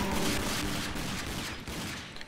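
Gunfire in the video game RAGE crackles as a dense, rapid burst of overlapping shots, loud and close, filling the whole moment without any talk.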